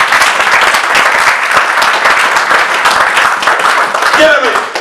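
A church congregation applauds for Jesus with loud, dense clapping that runs without a break, while voices call out over it.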